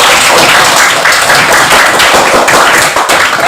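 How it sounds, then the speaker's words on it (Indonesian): A classroom of students clapping hands together in a sustained, loud burst of applause for several seconds, with no talking over it. "kita tepuk tangan dulu biar sedikit semangat"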